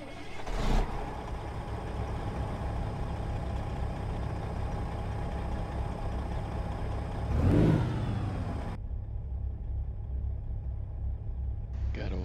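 A straight-piped Cummins ISX 600 truck engine in American Truck Simulator fires up with a loud burst, then settles into a continuous rumbling idle, swells again, and cuts off abruptly.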